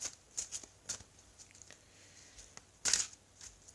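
Four Agreements Toltec oracle cards being shuffled, giving a few quiet, brief riffling bursts with one louder flurry near the end, close by and faint overall.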